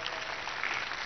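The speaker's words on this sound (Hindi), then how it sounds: "इसके लिए जोरदार ताली बजाओ।" Audience clapping at a Sanskrit gurukul gathering of children, a steady dense wash of applause filling the whole moment without pause, fairly loud and unbroken by talk.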